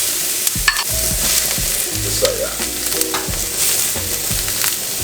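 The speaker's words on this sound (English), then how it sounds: "Now we're going to go ahead and saute all our vegetables." Garlic, bell peppers, onions and mushrooms sizzle in a pan while being stirred, a close, steady frying hiss broken by scraping spoon strokes, with a brief spoken remark.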